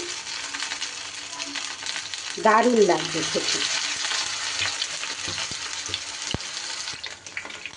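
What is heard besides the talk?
frying stuffed kakrol (spiny gourd) in a pan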